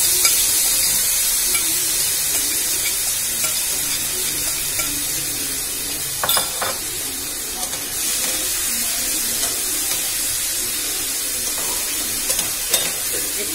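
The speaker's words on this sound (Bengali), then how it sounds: "এবার আমি দিয়ে দেবো চিংড়ি মাছটা।" Shrimp sizzling in a hot pan with already-fried garlic; a loud, continuous hiss runs throughout, broken by a few sharp clinks of a spatula or utensil against the pan.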